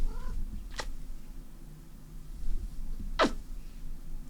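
A pet cat indoors gives two short, high meows about two seconds apart, faint and clipped against a quiet background hum.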